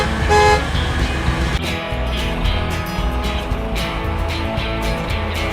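A car horn gives a short toot near the start, then steady road-vehicle engine and traffic noise carries on loudly to the end, with no voices.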